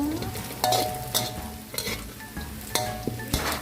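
Food fries in hot oil until golden and crisp, a dense steady sizzle broken by repeated scraping and clinking of a spatula against the pan, close and fairly loud with no voices.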